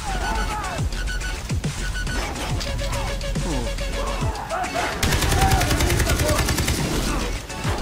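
Rapid automatic gunfire from a first-person shooter game, Far Cry 3, with dense overlapping bursts and shots, growing heavier and louder in the last seconds, under background game sounds and no speech.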